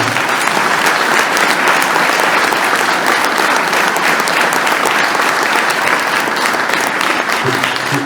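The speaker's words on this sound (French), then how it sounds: "On peut vraiment les applaudir" Dense, loud applause from a crowd at a Normandy national rally ceremony, steady and sustained throughout without a break.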